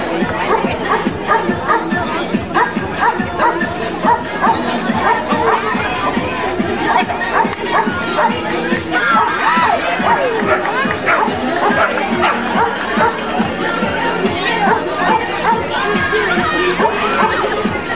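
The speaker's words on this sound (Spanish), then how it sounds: "¡Aplausos, aplausos!" Crowd of neighbours at an outdoor dog festival cheers and claps steadily, with children shouting and general babble filling the scene throughout.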